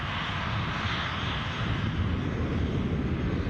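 An easyJet jet airliner at Edinburgh Airport produces a broad, steady roar that holds at even loudness from a moderate distance, with no voices.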